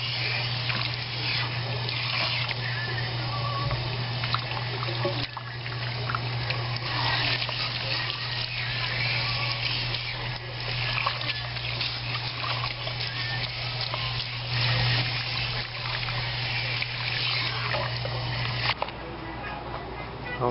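Water runs steadily from a salon sink tap as keratin treatment is rinsed out of hair, a constant loud splashing hiss for about twenty seconds with a faint hum underneath and no talking.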